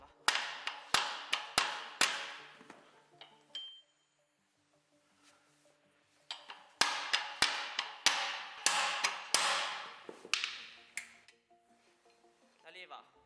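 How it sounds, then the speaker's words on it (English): Sharp, repeated knocks of a soft rubber mallet hammering a control bracket onto a Lamborghini tractor, coming in quick bursts with a quiet pause in the middle, close and fairly loud. "with a soft rubber mallet and by blocking the pin from inside I hammer in the"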